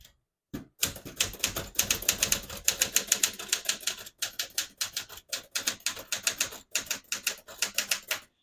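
A 1964 Smith-Corona Galaxie portable typewriter types in quick bursts, keystrokes clacking rapidly and evenly with a few short pauses between runs, close and clear without any talking.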